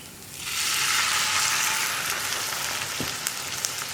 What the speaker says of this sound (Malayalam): ഞാനിപ്പോൾ 1 കപ്പ് വെള്ളമാണ് ചേർത്ത് കൊടുക്കുന്നത്.